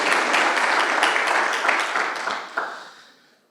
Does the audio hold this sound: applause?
yes